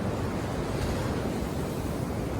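Steady sea waves wash against the shore in a continuous broadband roar, close and fairly loud with wind noise mixed in and no voices.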